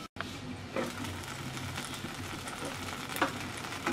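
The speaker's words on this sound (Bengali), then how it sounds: "এবার আমরা বেগুনটা চেক করে নিচ্ছি আমাদের বেগুন ভাজা হয়েছে কিনা" Eggplant frying in a pan gives off a quiet, continuous sizzle, with a few brief utensil clicks and scrapes along the way.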